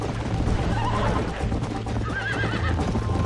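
In Red Dead Redemption, a galloping horse pounds along with rapid, continuous hoofbeats as wavering whinnies break out twice, close and loud over the thudding rhythm.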